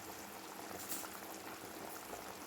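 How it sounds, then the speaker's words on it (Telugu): Telugu-style fish curry (pulusu) bubbling steadily in a pot, a close, continuous fizzing simmer with soft pops and no talking. "ఈ పులుసు ఇంకా ఎగిరిపోయేంత వరకు ఉడికించుకుందాము"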